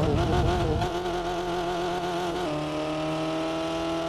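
A Tofaş car engine revs up in a tunnel in a video game with a rising, droning roar, then settles into a steady hum, loud and continuous with a slightly echoing quality.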